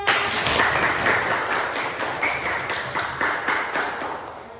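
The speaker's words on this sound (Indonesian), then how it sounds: "Tepuk tangan semuanya." A group of children applauds in a classroom, a dense, sustained patter of clapping that slowly fades over several seconds.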